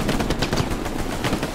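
Rapid machine-gun fire in the WW2 shooter Hell Let Loose during night combat, dense continuous bursts of shots, loud and close, with no talking.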